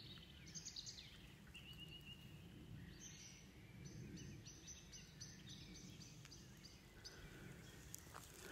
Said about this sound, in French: on entend encore un petit peu les oiseaux